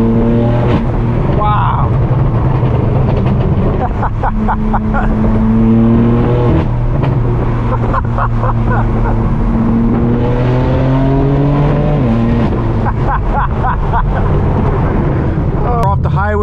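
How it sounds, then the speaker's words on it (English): A big old-school Dodge Charger rumbles past on a highway, its deep V8-style engine note rising and falling loudly over steady road noise inside a car, with a voice briefly exclaiming. "Big old school Charger."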